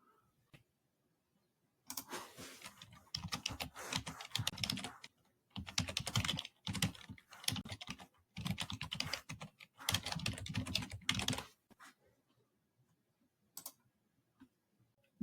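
Rapid typing on a computer keyboard while filling out a web form, coming in several dense bursts of clicking keys separated by short pauses, close and fairly quiet with no talk.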